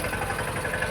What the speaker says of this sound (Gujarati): આપણું ટ્રેક્ટર મસ્ત મજાનું હાલી રહ્યું છે